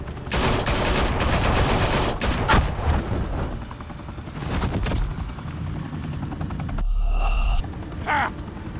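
A helicopter roars overhead while automatic gunfire rattles in rapid bursts in a Gotham scene from the Batman Telltale Series, Episode 1 Realm of Shadows, then a sharp electronic whine cuts in near the end.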